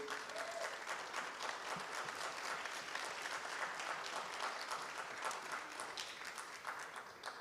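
Sustained audience applause fills a mayoral candidate forum in Oakland, a steady dense clatter of many hands at moderate distance, fairly faint and even throughout without a break.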